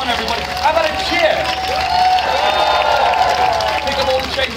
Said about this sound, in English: Let's give them a clap. Come on, everybody. How about a cheer?